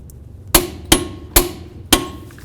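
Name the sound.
hammering to peen axle nut on Honda Accord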